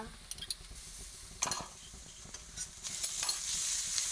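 Garlic and ginger frying in a pan, a soft crackle broken by a few distinct clicks and clinks of a utensil, building toward a brighter, louder sizzle near the end.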